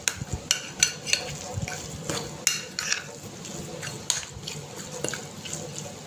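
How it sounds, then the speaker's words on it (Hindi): Potato snack batter made with semolina being stirred and mixed in a bowl, with soft wet scraping and repeated clinks of a spoon against the side, fairly close and with no talking. "इसको हमने अच्छे से मिक्स कर लेना है।"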